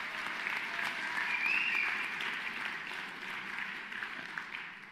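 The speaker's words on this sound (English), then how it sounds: "Let's give them a round of applause." Audience applause at a national voice competition, a sustained wash of clapping from a large crowd that swells briefly and holds steady, with faint voices underneath.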